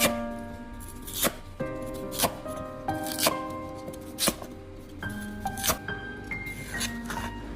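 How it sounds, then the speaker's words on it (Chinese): A knife cutting lotus root into chunks on a board, sharp irregular chops spaced about a second apart with faint clinks and pieces shifting between strokes, close and clear without talk. "在切莲藕的时候，我们要仔细检查一下里面有没有残留的淤泥"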